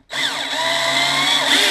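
A Black & Decker EGBL108 cordless drill set to clutch 7 unscrews a screw, its motor whining loudly and steadily for over a second up close.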